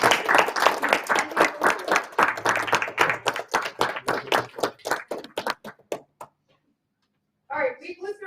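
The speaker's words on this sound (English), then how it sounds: "So please give them a round of applause." An audience at a professional chapter business meeting gives a round of applause, with dense clapping that thins into scattered claps and fades to silence before someone begins speaking.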